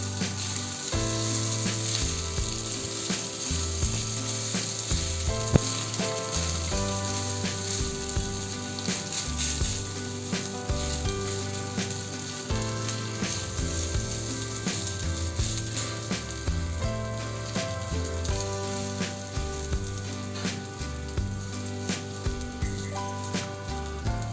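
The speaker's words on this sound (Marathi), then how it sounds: "आता हे चांगलं परतवून घेऊ आपण हे." Lemon rice ingredients with salt sizzle steadily in a pan as they are sautéed, a loud continuous frying hiss with occasional stirring scrapes, no voices.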